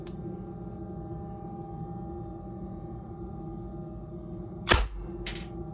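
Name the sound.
airgun shots being fired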